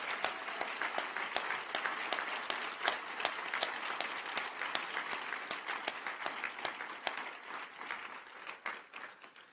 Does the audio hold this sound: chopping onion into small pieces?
no